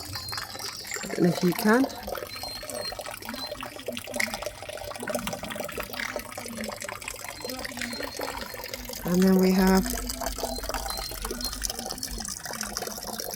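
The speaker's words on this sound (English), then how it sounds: "the water coming out" Water runs from a tap inside a camper van, a steady broadband rush that continues throughout, with a louder gush near the end while people talk over it.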